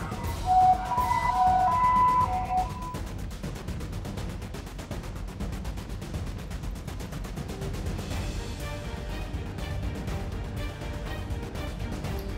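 An ambulance siren wails loud and steady for about twelve seconds in a Vietnamese drama, with a tonal note at the start giving way to a dense, continuous rush of sound.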